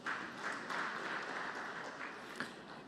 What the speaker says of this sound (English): And I think this deserves another round of applause.